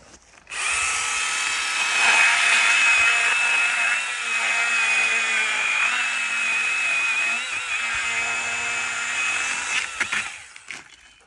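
A small Makita DUC101 cordless pruning saw whines steadily through wood for about ten seconds, close and loud, with a sustained high-pitched tone that tapers off at the end.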